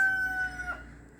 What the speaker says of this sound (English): you just heard the roosters